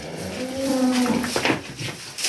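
A cow gives one low, drawn-out moo nearby in a Konkan dairy cattle shed, with a noisy outdoor background.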